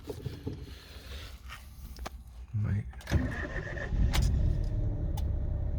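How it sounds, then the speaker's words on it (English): A Toyota 1-litre hatchback engine starts and settles into a steady idle, with some handling noise and clatter around it. "it sounds to me as though that is the Toyota 1 litre rather than the PureTech engine"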